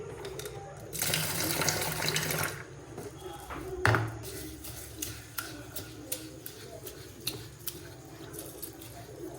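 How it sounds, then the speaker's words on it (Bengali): Water running from a tap into a sink while something is rinsed and washed, a steady close splash in a brief burst, then softer handling clatter and dripping, with little or no talk. "এটাকে ভালো করে জলের মতো দিয়ে ওয়াশ করে নেবো"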